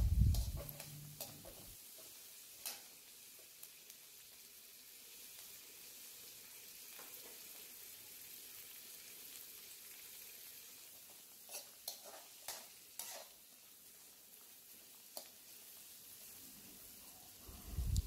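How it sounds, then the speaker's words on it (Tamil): Pirandai (adamant creeper) sautés in a pan for chutney, giving a faint, low sizzle under occasional light taps and scrapes as it is stirred. The clicks come in brief clusters, and no one speaks. "நல்லா கலர் சேஞ்ச் ஆகிற வரை வதக்கி விட்டுட்டே இருந்தேன்."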